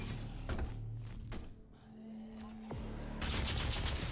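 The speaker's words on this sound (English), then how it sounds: "Oh, it's a chain gun." Chaingun fire in the DOOM video game, short bursts of rapid shots with thuds between, fairly faint and without speech.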